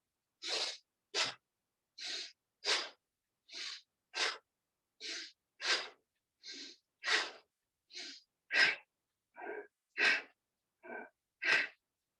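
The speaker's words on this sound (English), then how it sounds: "breathing out." Breathing exercise with hand mudras: about sixteen forceful, breathy puffs of air in a steady, evenly spaced rhythm, close and alone.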